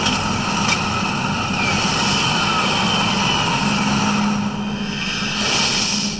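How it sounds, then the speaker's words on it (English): Steady roaring thruster in the sci-fi horror game Dead Space 2, a loud continuous rushing drone that holds level throughout with no speech over it. "why would anybody put a thruster on something?"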